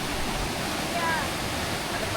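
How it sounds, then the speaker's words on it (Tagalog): The Agbobotilya River in Cabangan, Zambales flowing steadily, a broad continuous rushing wash heard close and moderately loud with no distinct breaks. "Ang ilog."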